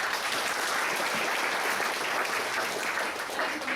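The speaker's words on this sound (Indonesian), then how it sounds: "Boleh kasih tepuk tangan untuk Pak Timothy." An audience applauds Pak Timothy at an Indonesian agency event, a dense, steady wash of clapping that fills the whole stretch at an even, moderate loudness.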